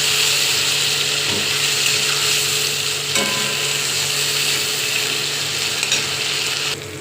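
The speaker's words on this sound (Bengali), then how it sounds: "মশলাটা আমি দিয়ে দিলাম, এটাকে আমি এবার কষবো ভালো করে" Potatoes and spices being sautéed in a pan, a constant loud sizzle of frying with occasional scrapes of a spatula, close and steady throughout, without talk.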